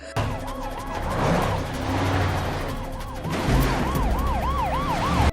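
A wailing police car siren during a chase in the 2012 film Man on a Ledge, rising and falling loudly and close over roaring engine and traffic noise, with the wail surging again in the second half.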